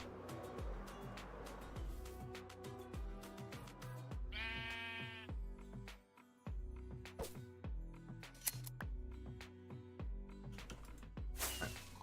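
Sheep in a hardcore survival video game bleat in a clear, wavering cry midway, over a busy bed of repeating game sounds and soft clicks.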